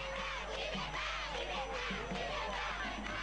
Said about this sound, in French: Le chef de l'État malien est accueilli en rockstar par une foule en délire.